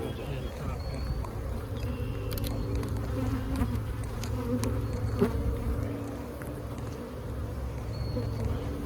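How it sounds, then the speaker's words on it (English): Honey bees hum and drone steadily from an opened hive during an inspection, a dense close buzz that persists throughout with soft handling sounds. "There's lots of bees up here too"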